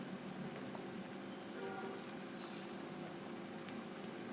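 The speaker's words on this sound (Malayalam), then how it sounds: "ഈ പാനിൽ തന്നെ 7 എണ്ണം നമുക്ക് ഫ്രൈ ചെയ്യാം." Green banana vada fritters fry in hot oil in a pan, giving a steady, soft, even sizzle and bubbling hiss that stays fairly faint and unbroken throughout.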